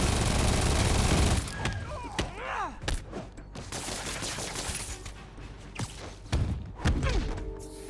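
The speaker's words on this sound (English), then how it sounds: "time for him to shoot off the gun" An enemy fires a gun in Marvel's Spider-Man, producing loud, punchy gunshots and bursts amid a dense, busy mix of impacts, whooshes and combat effects throughout.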